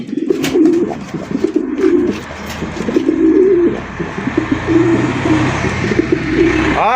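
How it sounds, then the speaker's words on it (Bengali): Many Rajgulla and Giribaj pigeons coo loudly and continuously nearby, their low throaty calls overlapping in repeated bursts. "প্রথমে শুরু করতেছি চমৎকার একশো রাজগুল্লা কবুতরের কালেকশন দিয়ে"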